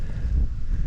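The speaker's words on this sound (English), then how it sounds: "It's quite windy today" Strong wind blowing over an exposed rock summit in stormy weather, a steady low roaring buffet across the microphone with no speech.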